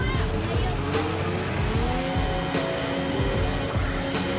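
An engine drones steadily as a vehicle drives in the video game Borderlands, its pitch shifting slightly as it goes, with talk running over it throughout.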